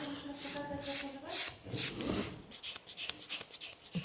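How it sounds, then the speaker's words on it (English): A buffer rubbed over a natural fingernail during a gel French manicure gives close, dry scratchy strokes in quick back-and-forth bursts that fade into lighter, scattered scuffing. "Okay, so keep buffing this one."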